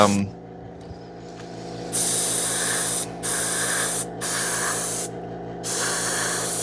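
An airbrush sprays paint onto printed Doctor Doom armor, turning silver to gunmetal, as a steady close hiss that starts and stops in several bursts over a constant low compressor hum.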